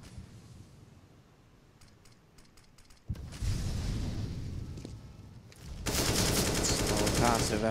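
Gunfire in a Counter-Strike match, with a faint rattle of distant shots early on, then a sudden loud burst of automatic fire and a heavier sustained barrage near the end.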